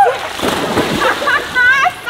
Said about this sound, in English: Time for a cabin shower.